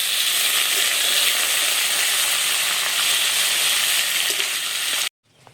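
Rupchand fish coated in salt and turmeric sizzles loudly in hot oil, a dense, steady hiss with faint pops that cuts off abruptly near the end.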